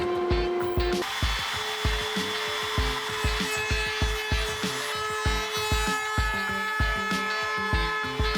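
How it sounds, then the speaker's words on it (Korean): A power trimmer-style router cuts grooves into solid oak on a workshop table, giving a steady close whine layered with rapid repeated bursts of rough cutting and clatter that pulse throughout. "양쪽 끝부분 홈을 막기 위해 홈날리로 나무를 내리고 끝부분을 드려야 합니다."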